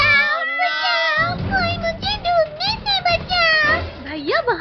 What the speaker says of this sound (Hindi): भैया, वहाँ देखो बिल्ली का बच्चा